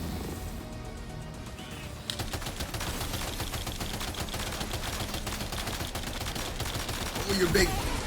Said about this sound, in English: Machine gun time.